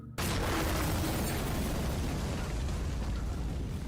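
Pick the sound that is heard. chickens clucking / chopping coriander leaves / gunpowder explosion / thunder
gunpowder explosion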